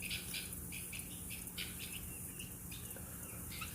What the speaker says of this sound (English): Y'all hear the other birds? They over there having a fit.